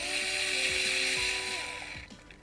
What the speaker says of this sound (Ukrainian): за що я люблю свою викруточку, як револьвер зручна і реально економить величезну купу часу